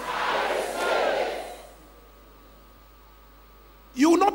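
A church congregation shouts together in a loud, roaring swell for under two seconds, then falls quiet before a single voice cuts back in.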